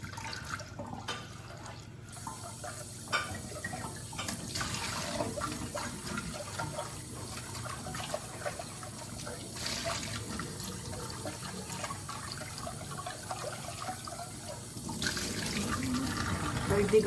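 Water pours from a kitchen tap while dishes are washed before eggs are boiled, a steady splashing stream with clinks and shifting flow that grows louder near the end.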